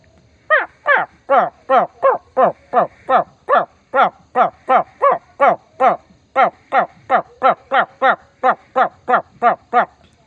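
A boy imitates a heron's call with his voice, giving a long run of about two dozen short, sharp, evenly spaced squawks that stay loud and close and carry no other talk.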